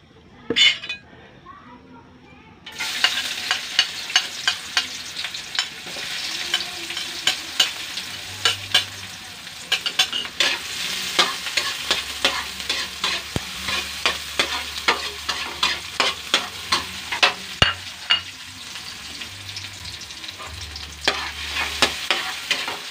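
Garlic and onion sizzle steadily in a pan, close and continuous, with frequent clinks of a utensil stirring against the metal and a voice talking at times.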